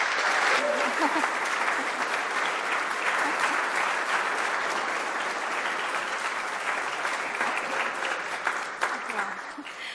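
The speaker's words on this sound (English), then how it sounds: "Please give her a warm round of applause" A warm round of applause from a conference audience greets an art director for a game studio; dense, even clapping fills the hall for ten seconds, fading slightly near the end, with some background voices.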